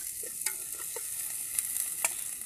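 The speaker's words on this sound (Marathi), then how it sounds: "हे पटकन हलवून घ्यायचे नाहीतर जळण्याच्या पण शक्यता आहेत" Spices fry in a pan over a wood-fired stove outdoors with a continuous hiss, while a few quick scrapes and clicks of stirring sound close by.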